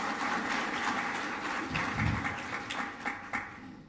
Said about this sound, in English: So let's show them a appreciation with a round of applause.